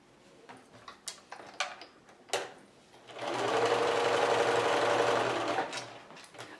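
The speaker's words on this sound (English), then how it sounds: "I'm going to sew a couple more of these for you" A sewing machine runs in a steady fast stitching burst for about three seconds while sewing jelly roll quilt strips together, preceded by scattered clicks and handling taps.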